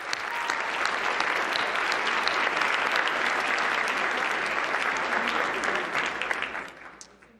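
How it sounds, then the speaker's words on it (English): Sustained, loud applause from a large dinner audience at the White House Correspondents' Dinner, a thick wash of clapping that holds steady before fading out near the end. "Let's give Caitlin another big round of applause."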